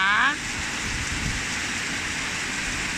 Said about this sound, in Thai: พายุค่ะ พัดกระหน่ำพร้อมกับสายฝนนะคะ